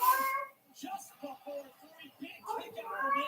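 A cat in heat yowls faintly in the background of a room, its long wavering cries rising at the start and end, with soft murmuring and indistinct shuffling noises in between.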